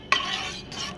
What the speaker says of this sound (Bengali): নুন আর হলুদটাকে আমি একটু নাড়াচাড়া করে নেব।